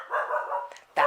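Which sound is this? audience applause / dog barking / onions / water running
dog barking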